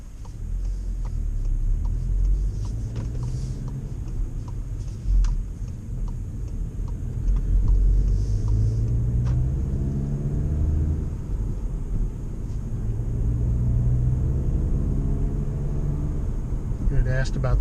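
A car rolls quietly over smooth pavement at night, a steady low rumble with soft road noise and faint ticking, while someone talks over it throughout.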